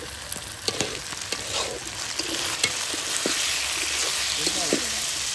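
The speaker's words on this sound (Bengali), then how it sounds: "এবার চিলি চিকেন রান্নার জন্য দিয়ে দিচ্ছি ক্যাপসিকাম আর পেঁয়াজ।" Capsicum and onion sizzling and frying in hot oil for chilli chicken at an outdoor picnic, a steady crackling hiss with occasional stirring scrapes, fairly close and continuous.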